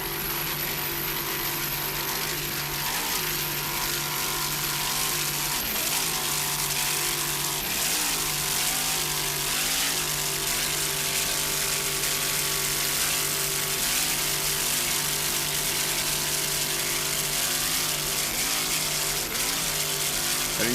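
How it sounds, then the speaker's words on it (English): Custom Marine inboard engine on the Wizard of Oz racing powerboat at the Key West World Championships, a continuous dense mechanical roar with steady harmonic tones, held at a constant level for the full stretch. "Listen to that engine there, that Wizard of Oz T Custom Marine inboard."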